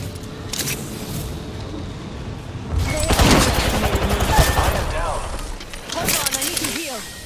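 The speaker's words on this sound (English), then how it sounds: "The enemies are shooting at me." Enemy gunfire rattles in the Apex Legends shooter game, with dense bursts and cracks that swell louder midway and again near the end, mixed with in-game voices and other game effects.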